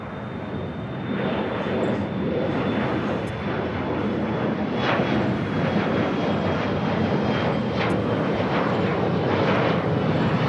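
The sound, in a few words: Boeing 767-300ER arriving from SFO at LAX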